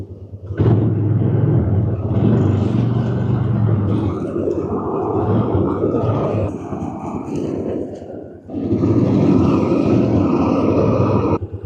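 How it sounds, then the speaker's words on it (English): A Ranger utility vehicle drives across a farm field while grass is being torched, giving a loud, steady engine rumble and roar that runs almost the whole time, dips briefly, then surges again. "we're gonna go around with the Ranger and just torch the grass"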